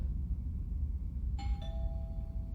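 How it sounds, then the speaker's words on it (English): A single two-tone doorbell chime rings out clearly in a horror video game, the ding followed by a lower dong that lingers over a low background rumble. "I should just ring the doorbell, see if he answers"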